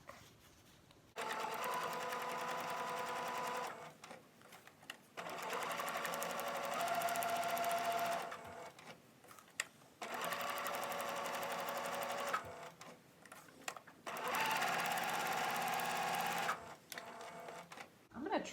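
A sewing machine stitches through card stock for a gift tag, running in four steady bursts of a few seconds each with short quiet pauses between, close and clear.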